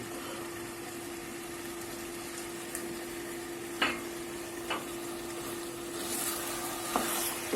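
Butter sizzling in a pan with Kayseri yağlaması filling, a soft continuous frying hiss with a steady tone beneath it and a few sharp clinks of a utensil scraping the pan, no voices.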